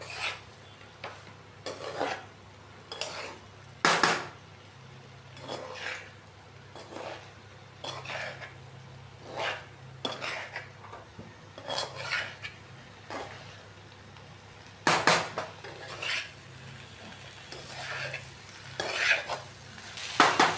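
Soya chunk curry with masala is stirred and fried in a pan, giving a steady low sizzle with repeated scraping strokes of a spoon against the pan in an irregular rhythm, close and fairly quiet, with occasional speech.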